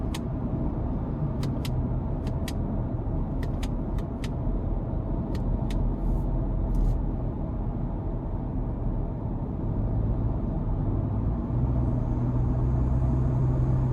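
A 2025 Ford Ranger XLT FX4 pickup cruises in normal drive mode. Steady road and engine rumble fills the cabin, with a few faint ticks early on and a slight swell in the noise toward the end.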